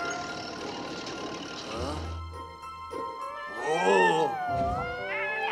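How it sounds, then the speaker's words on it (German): Kittens meow in an animated children's show featuring heavy vehicle rangers; a couple of high, wavering cries come through near the end, following a voiced exclamation and scattered cartoon sound effects. "Waren also nur Kätzchen."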